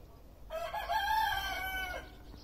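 A single rooster crows once, a loud drawn-out call lasting over a second, close by against a quiet outdoor background at Wicken Fen.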